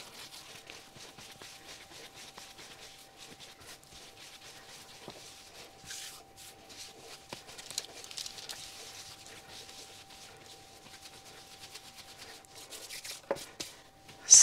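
Soft rubbing and light patting by hand on a floured work surface as beer bread dough is shaped round, quiet and continuous with occasional taps, and no voices.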